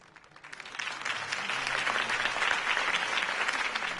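Crowd applause in the Batman: The Telltale Series video game, heard after Harvey Dent's campaign speech: steady, dense clapping that swells up within the first half second and holds loud and even to the end, with no talk over it.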